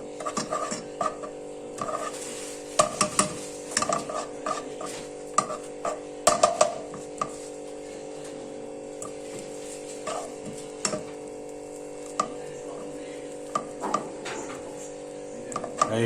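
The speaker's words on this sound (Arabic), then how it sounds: "هاهي كتذوب لينا هاد الزبده." Butter melting in a pan for a béchamel sauce, with soft, steady sizzling and frequent light scraping and clicking as a utensil stirs, close and fairly quiet with no talk.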